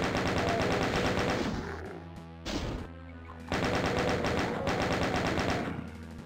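Rapid bursts of gunfire in the video game Ultimate Doom, shooting at shotgunners, with loud repeated shots in sustained volleys broken by a short pause.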